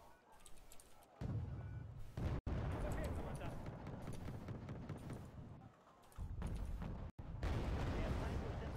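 Tank cannon fire in a tank battle game booms in heavy, rumbling blasts with sustained low roar between them, while a voice talks over the action.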